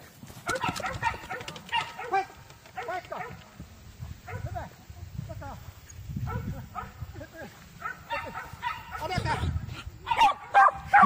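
Dogs yip and bark repeatedly during agility tricks in an outdoor display, the close, lively barking running under steady talking.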